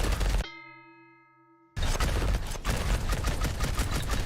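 Shotgun blasts and sword clangs from the action game Vampire Hunters, a dense loud barrage of gunfire with a brief ringing metallic tone between bursts.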